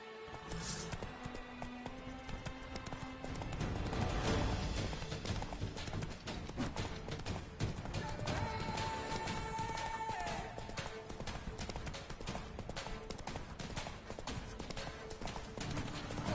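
Horse hooves clip-clop steadily at a gallop in The Witcher 3 video game, running continuously under game music and ambient sound with no speech.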